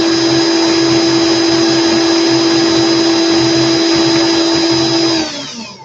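A power drill spins steadily, twisting wire for a Clapton vape coil with a 24-gauge wire on a swivel, a loud, even motor whine held for about five seconds before it begins to wind down.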